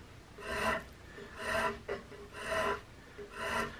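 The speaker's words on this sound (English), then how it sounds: "as I make these strokes, I'm bringing the rasp as far around as I can" Wood rasp drawn in long, even strokes to shape the stock of a Hawken rifle kit, four rhythmic rasping passes with brief pauses between, close and fairly quiet, no talking.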